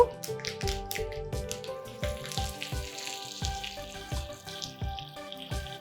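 Mustard seeds and cumin crackle and sizzle in hot oil in a home kitchen pan for a yoga-style raita tempering, with rapid popping bursts over a steady frying hiss, close and moderately loud, no talking.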